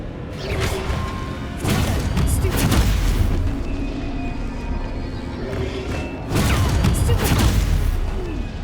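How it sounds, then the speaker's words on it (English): Spell combat in the video game Hogwarts Legacy, with loud magical blasts and booming impacts in two bursts around a steadier clatter of game effects and music. "So I have to use Stupefy now. 3 times."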